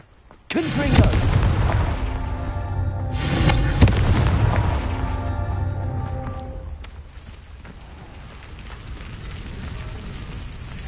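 Two heavy Confringo spell blasts in Hogwarts Legacy boom out about three seconds apart, each followed by a ringing, fiery tail. A low rumble lingers after them and a voice is briefly heard.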